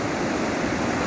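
A river runs steadily with a dense, even rush of flowing water, loud and continuous for the whole moment, with no voices.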